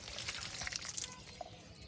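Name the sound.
watering a hibiscus plant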